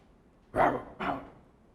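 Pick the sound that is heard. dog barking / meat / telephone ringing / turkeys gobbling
dog barking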